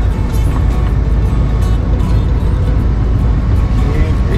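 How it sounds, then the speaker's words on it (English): A ranch tractor's PTO engages and runs while the rig sits idling before feeding cattle in North Dakota, giving a loud, steady low engine drone that holds constant throughout with no gaps. "now we're gonna fire up the PTO"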